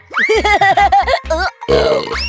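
A cartoon character lets out a string of exaggerated voiced burps and grunts, loud and close, in choppy bursts with short gaps, a comic vocal imitation rather than a natural belch.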